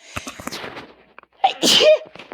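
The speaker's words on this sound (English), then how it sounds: "I'm going to sneeze." A few quiet clicks and shuffles lead into a sharp intake of breath, then a single loud, close sneeze bursts out and fades.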